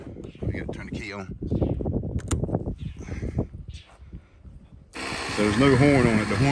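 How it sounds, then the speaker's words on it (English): Someone talks over low rumbling from a 2005 Honda VTX 1300 motorcycle, then its air ride pump switches on and runs as a loud, steady buzzing whine under continued speech. "The horn button controls the air pump."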